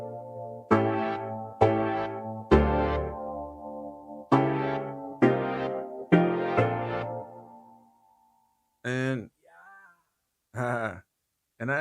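An R&B beat built in Scaler 2, with piano and a drum kit taken from a free kit, plays as a series of loud, punchy chord hits that decay, then drops out to brief short bursts near the end.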